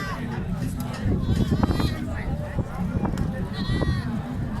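Rajanpuri castrated billy goats at a sale pen in DG Khan bleat repeatedly at close range amid a steady crowd murmur and nearby talking.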